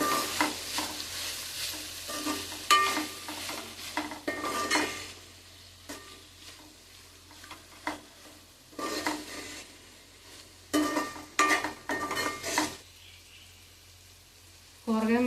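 Vegetable pulao with fresh coriander and mint being stirred in a pot, giving soft scraping and clinking strokes in uneven bursts over a faint steady sizzle, close and moderately loud, with no talking.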